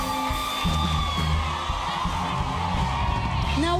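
A crowd at a live rock concert applauds and cheers loudly, with whoops and yells blending into a dense, sustained roar over stage sound.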